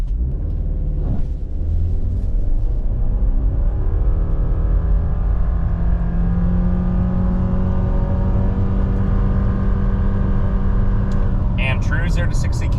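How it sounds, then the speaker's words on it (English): A 2024 Subaru Forester Touring accelerates hard from a standstill in sport mode with traction control off at about 3,000 feet, its engine note steady and loud from inside the cabin over a sustained drone, with a brief rise near the end. "0 to 60 in the 24 Touring Forester, you can see traction is off, sport mode is on, I'll brake rev it"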